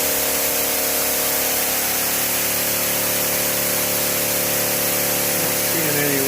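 Pressurized water misting from a fodder room spray system during a pressure test, a steady loud hiss with a pump-like hum running throughout, no speech.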